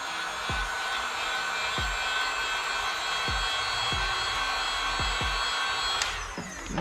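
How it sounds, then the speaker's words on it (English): A heat gun blows a steady, even whoosh close by while softening badge adhesive on a BMW M3/M4, with faint recurring clicks or taps underneath and a brief knock near the end; nobody speaks. "you can always just hit it with the heat gun for a second."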